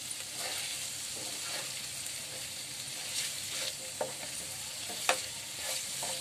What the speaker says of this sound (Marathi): आपला टोमॅटो बऱ्यापैकी शिजला आहे. असं दाबून घ्यायचं आहे.